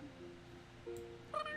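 A cat in The Sims 3 Create-a-Cat mode gives a short meow near the end, over a low game music bed.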